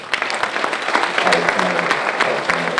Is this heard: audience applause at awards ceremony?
yes